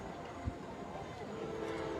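A train rumbles low and steady in the distance behind outdoor noise at a Jesuit vs Middleton high school football game, with a brief thump near the start.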